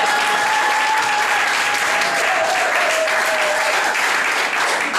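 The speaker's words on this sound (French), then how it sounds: "Applaudissez encore." Guests at a wedding ceremony in Libreville clap loudly and continuously, a thick even wall of hand-claps with a high whistle tone running across it.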